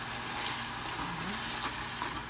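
Shrimp frying in a pan give a steady, even sizzle that holds close and moderately quiet for the whole stretch, with no talking over it.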